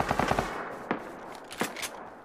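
Rapid automatic gunfire in the survival game Rust, a quick close burst of shots at the start followed by a few single cracks spaced out over a dull background.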